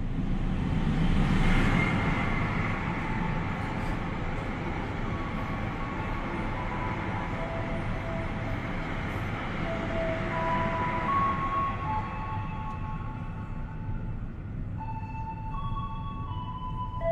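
The KA Jayabaya economy-class train runs on the Jakarta–Malang route with a loud, continuous rolling rumble and steady wheel roar, joined by faint whining tones late on.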